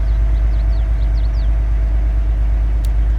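A Cummins ISX truck engine idling in Farming Simulator 22, a steady, loud, low diesel rumble with an even pulsing throb throughout and faint chirps above it.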